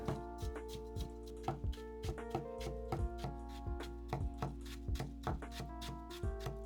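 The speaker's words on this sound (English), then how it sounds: "I turn it and fold it into half. And I cut it into strips." A knife chops through daikon radish on a cutting board, cutting folded sheets into strips with a steady series of crisp, close taps, alone over a faint steady background hum.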